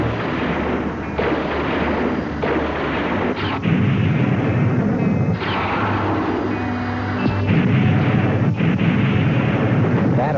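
An artillery battery fires in a film scene, with a string of heavy booming blasts and rumbling bursts, loud and close, overlapping one another across the whole stretch.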